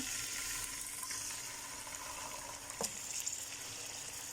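Chicken frying in hot oil for chicken shinwari, a faint, steady low sizzle with a couple of brief sharp clinks near the end.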